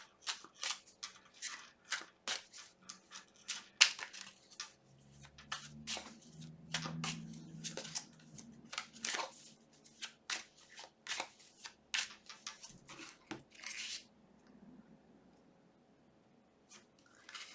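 Tarot cards shuffled and cut by hand in a quiet room, a run of soft, quick papery riffles and taps, close and faint, with brief pauses between bursts.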